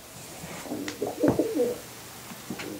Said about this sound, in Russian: Там ведь всего лишь голуби.